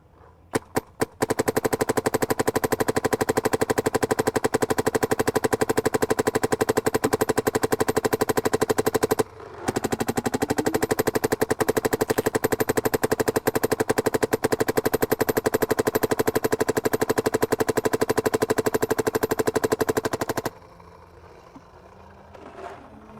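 A MacDev Clone 5 paintball marker fires in long, rapid automatic strings. The shots sound like a dense mechanical buzz of pops, with a short pause midway, and the firing stops abruptly before a quiet tail.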